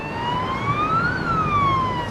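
An ambulance siren wails steadily at a distance, its pitch rising and falling in a smooth sweep over low traffic rumble.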